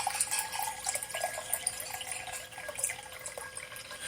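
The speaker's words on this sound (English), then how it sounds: "Lift and pour that pitcher." Water poured from a pitcher into a glass, a soft, continuous splashing trickle at close range, steady for a few seconds with no speech.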